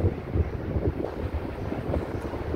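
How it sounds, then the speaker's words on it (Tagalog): Cool wind blows between two tall buildings with air-conditioning units, heard as a steady low rumbling gust buffeting the microphone, loud and continuous throughout with no voices. "Pero malamig ang buga ng hangin, simoy ng hangin."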